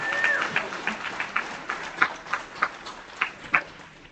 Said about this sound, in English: Huge round of applause for Everett Early